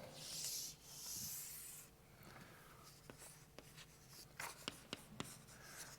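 Chalk or a marker writes on a board during a physics lecture, heard as faint scratching strokes followed by a run of light taps and short scrapes at moderate distance, with no talking.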